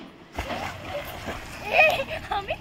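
Splashing and sloshing of river water around a swimmer in the Ganges, a few irregular splashes close by over a noisy outdoor background with voices mixed in.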